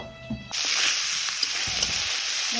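Chillies dropped into hot oil for baingan bharta set off a sudden loud, steady sizzle that starts abruptly and keeps hissing close by, with faint clinks of cooking underneath.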